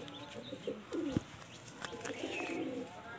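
Original Kotashi fulsira pigeons, a male and a female, cooing softly nearby in low murmuring bursts with some light rustling.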